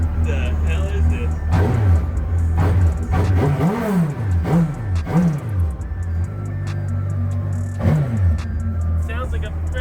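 A drift project car's engine revs up and falls back in several short, loud, close bursts, each climbing sharply before dropping to a rough idle, while people talk excitedly nearby.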